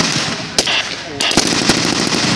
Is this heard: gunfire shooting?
yes